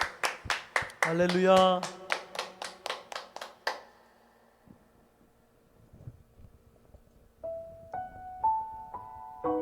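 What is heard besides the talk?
congregation clapping in church service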